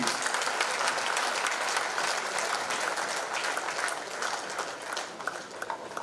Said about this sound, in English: Please give them a round of applause, please.